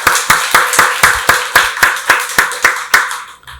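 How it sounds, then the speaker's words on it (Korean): A church congregation claps in unison during a Sunday worship service, about a dozen loud, evenly spaced beats that stop abruptly. "박수로 하나님께 영광 돌리겠습니다"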